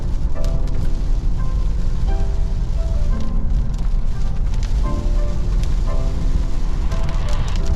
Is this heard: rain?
yes